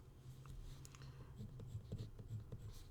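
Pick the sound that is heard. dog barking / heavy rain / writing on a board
writing on a board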